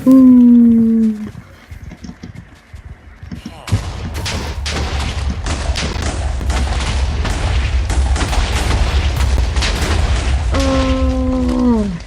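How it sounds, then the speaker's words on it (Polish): Loud booming explosions in Minecraft with rattling bursts of gunfire-like crackle, sustained for several seconds, with brief vocal tones at the start and end. "no i się wszystko pięknie tutaj wybuchło"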